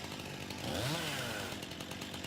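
A Stihl chainsaw in Farming Simulator 19 revs up into a rising, buzzing whine, then eases back to a steady idle drone.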